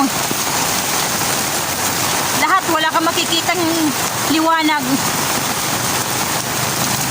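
Heavy rain pours down in Eastern Samar under dark skies, a dense continuous wash of noise, while a voice speaks Filipino briefly over it.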